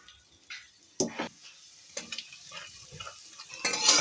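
Whole cumin, asafoetida, a dried chili and a bay leaf drop into hot oil left over from frying potatoes, giving short bursts of sizzling and spattering with stirring scrapes, close and moderately loud.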